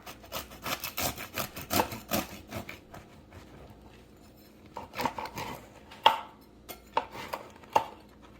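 A knife saws through a crusty jalapeño cheddar sourdough loaf: a run of quick, scratchy strokes, a short pause, then several more scattered cuts, close and fairly quiet, with no talking.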